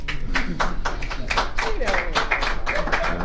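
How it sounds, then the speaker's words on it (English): Attendees of a Massachusetts Cannabis Control Commission meeting clap together, a dense run of close hand claps with a voice talking over the applause. "Come on, everybody applaud."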